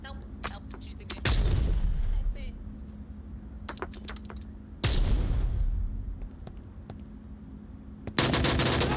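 Gunfire in the Onward VR military shooter game, three loud bursts of automatic fire in short runs, separated by quieter gaps with scattered clicks and distant shots, with a voice talking at times between them.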